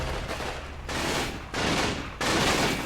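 Bursts of automatic machine gun fire in the World War II strategy game Combat Mission: Rome to Victory, in several loud sustained volleys with brief pauses between them and no talk.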